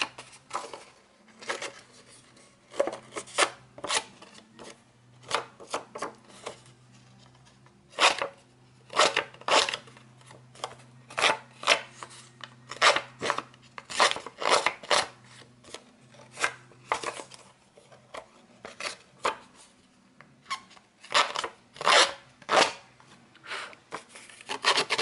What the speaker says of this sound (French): ça va aussi vite au ciseau.